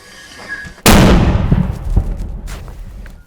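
A single loud, deep mortar blast erupts suddenly after a quiet moment, then rolls away in a long, rumbling echo with a few faint thuds behind it.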